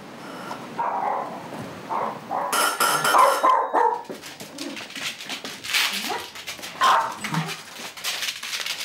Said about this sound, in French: Mais il est très excité, il aboie